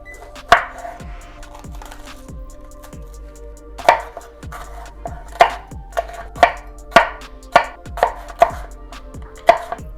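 Onions being chopped with a knife on a cutting board, crisp close thwacks that start sparse and build into a quicker, steady chopping rhythm, with no voices.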